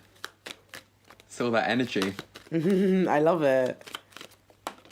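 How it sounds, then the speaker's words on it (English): A deck of playing cards being shuffled, with short riffling bursts and soft card flicks between lively talk from people nearby. "Okay, so I'm going to shuffle."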